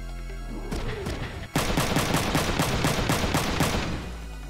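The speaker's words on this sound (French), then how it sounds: "Fusil à pompe." In the PlayStation game Front Mission 3, shotgun fire plays as a rapid run of about ten loud, evenly spaced blasts after a rumbling lead-in, with no talking.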